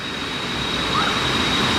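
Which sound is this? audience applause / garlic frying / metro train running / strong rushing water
strong rushing water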